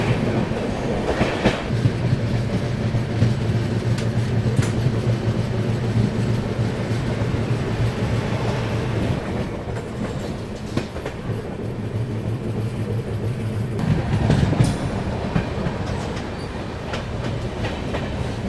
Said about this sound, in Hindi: हमारी ट्रेन अब स्किप करने जा रही है गाज़ियाबाद जंक्शन